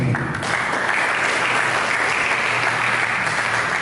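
Continuous applause rises from a church congregation at a worship service, broad and even, with a crowd of hands clapping steadily throughout.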